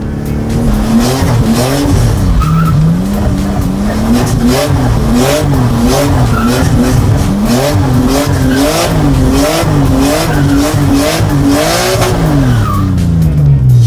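A car drifts around a cone, its engine revving hard and rising and falling in repeated loud surges, with tires squealing and skidding close by throughout.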